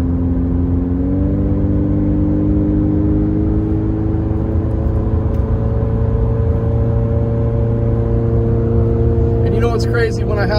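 A car engine running without a muffler, its exhaust removed to fit a train horn, on a drive up to snowy Big Bear: a loud, steady drone with a slight rise in pitch early on, then constant, with faint voices near the end.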